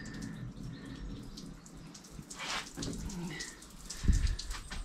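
Water sprayed onto a car during pre-wash, a steady hissing spatter that surges in bursts as the jet sweeps across the panels, with a closer splash near the end.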